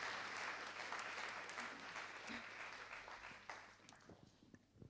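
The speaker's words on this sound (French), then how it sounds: "On vous applaudit bien fort et puis vous pouvez regagner la salle." Audience applause at a French financial awards ceremony, a sustained round of clapping from a seated crowd that slowly tapers off over about five seconds, with faint voices underneath.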